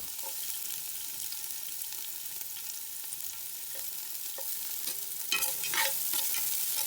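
Ginger frying in hot cooking oil at the start of an Ilocano goat pinapaitan, a quiet even sizzle with faint crackles that swells into louder spattering and a spoon clatter near the end, with no voices.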